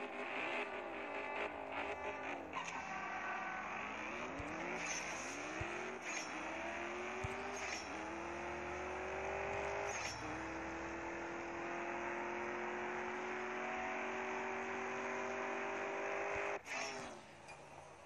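An AMG car's racing engine in the CSR 2 drag-racing video game revs hard through successive gear shifts, each upshift dropping the pitch before it climbs again, loud and continuous until a cut near the end.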